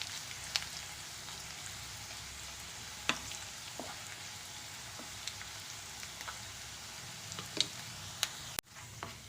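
Ginger pieces frying in hot oil with a steady, faint crackling sizzle, broken by occasional sharper pops and scrapes of stirring; no talking.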